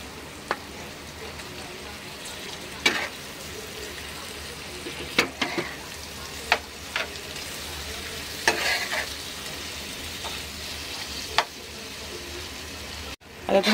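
Potato slices with okra and masala in a pan make a steady low sizzle, broken by scattered clinks and scrapes as a spoon stirs them, ending in a short clatter.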